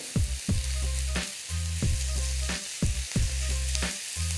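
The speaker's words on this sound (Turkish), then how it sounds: "Şu şekilde soğanlarla birlikte kavurmaya devam ediyorum" Ground beef frying in a pan with caramelized onions, a loud close sizzle broken by rhythmic scraping and stirring strokes of a utensil, no voices.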